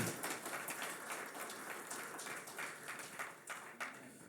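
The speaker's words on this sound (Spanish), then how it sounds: "denle un aplauso al Señor" A church congregation applauds in a steady, dense wash of clapping that holds at a moderate level throughout.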